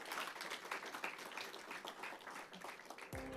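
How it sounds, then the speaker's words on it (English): Audience applause after a panel discussion at a Police Week event, a faint, dense patter of many hands clapping at a distance, ending in a brief low thump. "One more round of applause for the."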